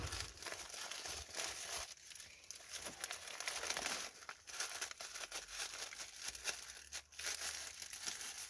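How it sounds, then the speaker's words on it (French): Thin paper crinkles and tears in quick, irregular bursts, faint and close, with rustling between the sharper rips. "Alors le papier de soie, ça se déchire."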